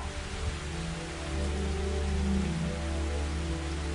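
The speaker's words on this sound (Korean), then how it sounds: "지구의 온도가 내려가자 비가 쏟아지기 시작했습니다." Heavy rain pours down in a steady, dense wash of broadband noise, rising slightly in the middle, with a low rumble underneath and no voices.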